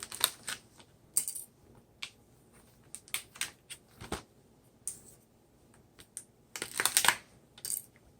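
A razor blade slices and scrapes at the plastic packaging of a Blu-ray disc in short, sharp bursts of scratching and clicking, scattered irregularly with quiet gaps between them.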